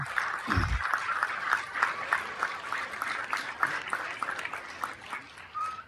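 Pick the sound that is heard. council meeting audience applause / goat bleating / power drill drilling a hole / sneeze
council meeting audience applause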